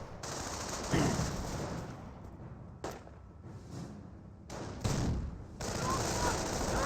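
Gunfire in the World War II strategy game Company of Heroes, with steady bursts of machine-gun fire and rifle shots rattling continuously, briefly broken by short pauses, with a voice speaking in places.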